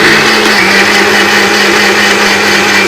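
A mixer grinder grinds vetiver roots finely, a loud, steady, unbroken motor whir that runs throughout.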